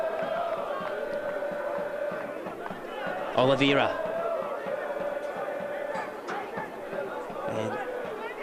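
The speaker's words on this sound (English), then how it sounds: "The majority of the South travelling supporters making plenty of noise, urging on their club" Travelling South Melbourne supporters at a 2006 Victorian Premier League football match against Green Gully make a steady roar of chanting and shouting, with a brief louder swell, under a commentator's voice.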